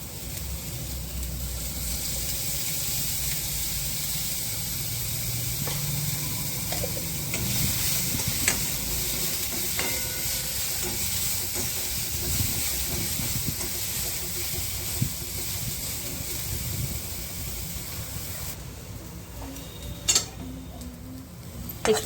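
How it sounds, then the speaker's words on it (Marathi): Grated ridge gourd roasting in a little oil in a pan, a steady sizzle with stirring scrapes and faint ticks throughout, then quieter near the end with a few sharp utensil clicks. "आता दोडक्याचा खीस भाजत आहे. थोडंसं तेल टाकायचं त्याला पण."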